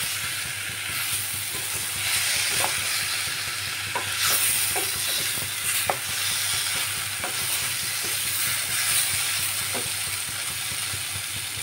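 Spice paste with raw banana and potato pieces stir-fried for a rohu fish curry, a steady sizzle running throughout with repeated light clicks and scrapes of the spatula.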